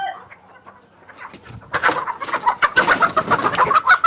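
Sonali chickens cluck and chatter close by, quiet at first and then a busy, steady run of overlapping clucks and squawks from several birds.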